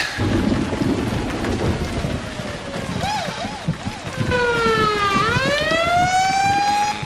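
A wailing ambulance siren rises and falls, growing louder, over a dense rumbling wash of rain-like noise, in the game Emergency 4 with a London mod.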